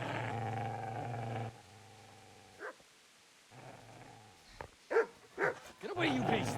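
A dog growls low and rumbling in the video game Kingdom Come Deliverance, its snarls rising and falling between short gaps, with someone shouting over it toward the end.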